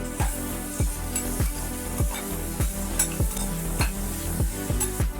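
Carrots, tomatoes and dal with turmeric being stirred and sautéed in a pan, a steady sizzle under repeated scraping strokes of a spoon, about two per second, close and fairly loud with no talking.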